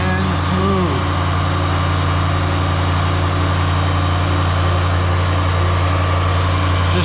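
A Jaguar F-Type R engine idling steadily after a new crank pulley is fitted, a loud, even low rumble with a constant hum throughout.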